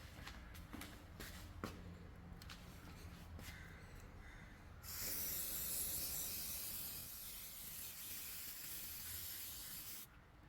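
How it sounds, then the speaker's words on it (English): A can of glue remover sprays onto yellowed paint protection film on a car in one continuous hissing burst lasting several seconds, preceded by faint handling clicks and rustles. "we will spray it with glue remover."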